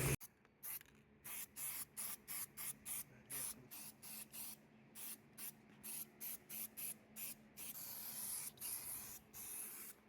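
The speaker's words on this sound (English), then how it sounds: "I actually left the spray can, the sun, so that it would heat up the paint and spray the paint smoothly across the parts" Spray paint can spraying engine parts for a 1975 Chevrolet C10 rebuild, about a dozen short hissing bursts in a steady rhythm, close and fairly loud, with no talking.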